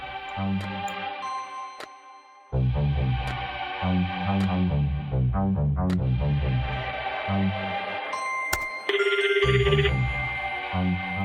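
Electronic telephone ringtone from the Darkside Detective 2 video game, a loud synthetic melodic trill that repeats in bursts, alone with no talk, after a quieter opening.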